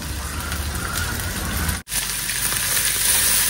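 Chicken sizzles and fries steadily in an open pan, a loud continuous hiss with faint stirring clicks and a brief dropout midway.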